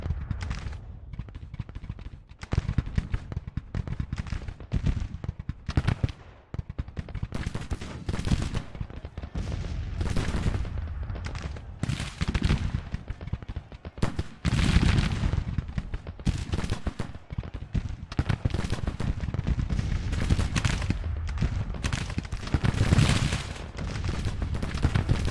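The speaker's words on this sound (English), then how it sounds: "I can hear my brigade firing, but I'm not seeing a firing animation." Brigade musket fire in the Civil War strategy game Grand Tactician: dense, continuous crackling volleys and rolling rifle shots keep sounding without a break, with a loud, steady battle roar underneath.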